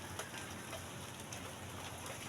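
Rain falls steadily with a soft, even hiss and scattered drops, faint and continuous with no voices, heard while passengers wait for a trip.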